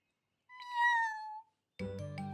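Cartoon cat gives one clear, drawn-out meow with a falling tone, then a brief silence before a burst of other cartoon sound begins.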